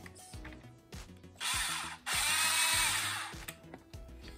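A power driver whirs in short bursts and longer sustained runs as servo screws are driven into a plastic RC car chassis, with clicks and ratcheting between pulls.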